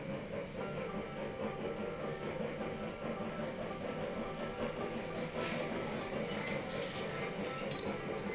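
A train rolls steadily in the railroad simulation game Railroad Tycoon 3, a continuous mid-level rumble of rails and wagons with no speech, holding an even loudness throughout.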